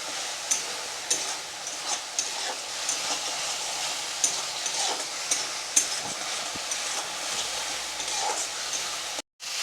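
Ginger, garlic and raw tomato masala frying in a pan as its water cooks off, giving a steady close sizzle with light stirring scrapes and small pops throughout, briefly cut off near the end.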